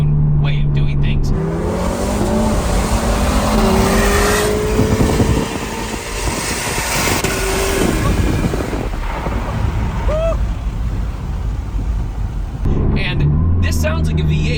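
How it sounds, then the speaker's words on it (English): An Aston Martin Valhalla hypercar with an AMG-based V8 revs hard and pulls through rising and falling engine notes, loud and close throughout, with voices partly over it. "And this sounds like a V8, but it's not in the V8 sense that an American V8 feels, right?"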